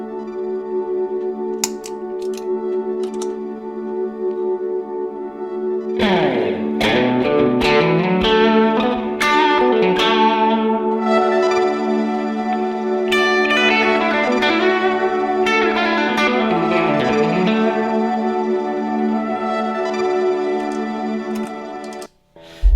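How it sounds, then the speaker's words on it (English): Electric guitar played through a TONEX ONE amp-modeler pedalboard with reverb: sustained chords ring out washed in long reverb and modulation, with a few struck chords and picked notes blooming over a steady tone and no voices. "I have a little bit of reverb on the mood too."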